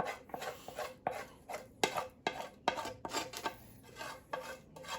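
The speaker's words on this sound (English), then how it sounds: "Clean up this messy pan." A utensil scrapes and clatters against a messy pan in quick, irregular strokes, close and fairly quiet, with no voices.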